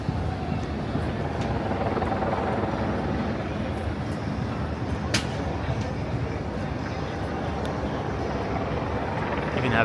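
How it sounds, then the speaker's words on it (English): A helicopter drones steadily overhead in Midtown Manhattan, a dull rumbling chop that fills the background, with faint street noise and a passing voice. "have helicopters in the sky."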